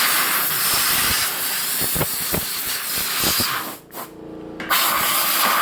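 An air compressor's blowgun gives a loud, steady, broadband hiss of blowing and spraying air, with a brief break partway through before the hiss returns. Someone says a word.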